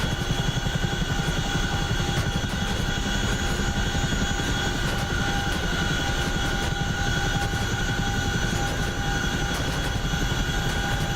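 A Chinook helicopter in the DCS World flight game, flying over the Persian Gulf map, drones with a loud, continuous rotor thrum and engine whine that stays steady throughout, with no voices.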